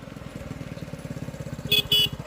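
A 1979 Honda CT90 motorcycle idles with a putting engine rhythm, then its horn sounds twice in short, loud, bright beeps close by.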